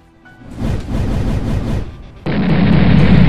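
Two clashing energy blasts erupt in a heavy boom, a rumbling surge that builds, dips, then slams into a loud sustained roaring blast.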